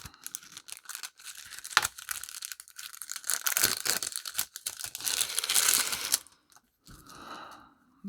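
Packaging around a watch strap being cut open, with a close run of crinkling, crunching and tearing bursts and a few sharp snips, then a short pause and a softer rustle at the end, no talking.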